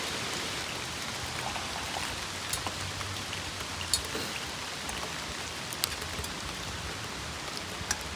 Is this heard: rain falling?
yes